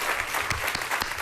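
Audience applause breaks out at the iPad Air 2 launch event, a dense, steady wash of many hands clapping at moderate volume with a few sharper bursts, heard alone without talk.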